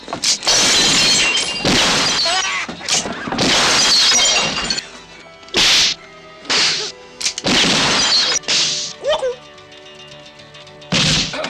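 Glass shatters loudly and repeatedly during a Western gunfight scene, several crashing breaks with bright splintering debris, mixed with thumps and scattered impacts, up close and dominant.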